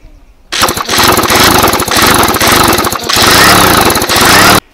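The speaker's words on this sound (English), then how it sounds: "Let's give it a crank with the drill here a little bit." A 1970 Fisherman outboard engine is cranked over with a power drill, giving a loud, rapid mechanical whirring chatter that starts abruptly, runs for about four seconds with brief dips, then cuts off.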